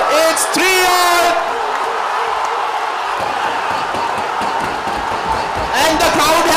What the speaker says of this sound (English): the crowd has gone wild here at the Sugathadasa Stadium